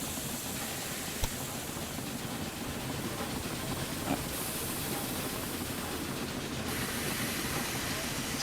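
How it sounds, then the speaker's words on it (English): A train in the railway management game Railway Empire 2 runs steadily through the whole stretch with a constant hissing, rumbling roar and faint rail clatter. There are no voices. "Let's follow this train."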